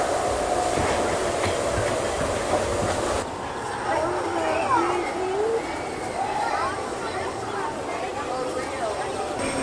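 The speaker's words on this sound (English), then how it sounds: "back in the monorail" Riding aboard the Disneyland monorail at night, with a steady rumbling drone of the train in motion, then a quieter cabin; voices talk nearby throughout.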